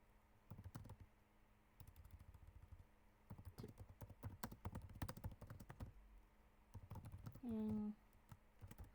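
Computer keyboard typed during an online tabletop role-playing game session, with rapid clicky keystrokes in uneven bursts, close and moderately loud, and a short electronic tone near the end.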